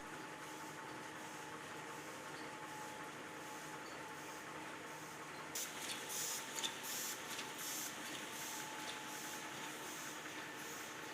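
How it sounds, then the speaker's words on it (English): A single-piece tissue paper packing machine runs with a constant whirring mechanical drone. Faint rapid clicking and ticking joins in partway through, and it sounds moderately distant, with no speech. "Fourth, single-piece packing machine."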